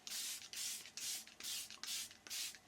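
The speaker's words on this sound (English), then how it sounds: "setting spray" Sculpted by Amy Hydrate and Hold setting spray being misted: six quick, evenly spaced hissing spritzes from a pump bottle, close and fairly soft, with no talking.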